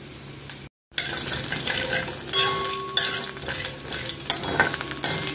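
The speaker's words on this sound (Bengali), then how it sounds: "জিরেটা একটু ভেজে নিলাম" Whole cumin seeds sizzle in hot oil in a pan, a close, steady frying crackle with stirring scrapes, broken by a brief silent gap near the start.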